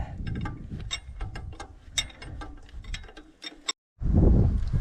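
Wrench ratcheting engine bolts loose on a New Holland TC45 tractor, rapid close metallic clicks in quick runs, then a short silence and a low rumbling thump at the end.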